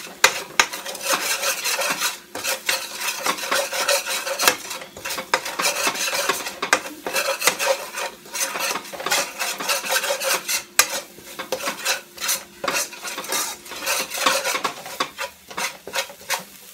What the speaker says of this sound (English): Just brown the curry.